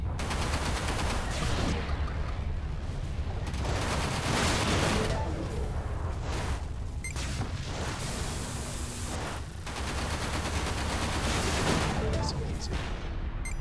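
Dense, sustained gunfire in the space combat game Everspace, a continuous loud barrage of rapid shots and blasts running the whole time with a voice talking over it.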